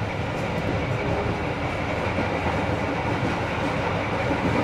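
The Dharmawangsa passenger train runs along the rails past Semarang Poncol station, giving a continuous dense rumble with a faint clickety-clack from the wheels, heard from inside and with no voices.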